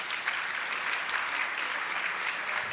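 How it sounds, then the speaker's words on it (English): Town hall audience applauding the panelists, a steady, moderately distant wash of many people clapping that holds evenly from start to finish without talk. "So one more round of applause for our panelists,"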